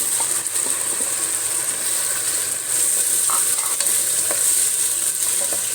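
Ground tomato stirred into a masala frying in a pan for mushroom biryani, a steady close sizzle with occasional scraping stirs, no voices.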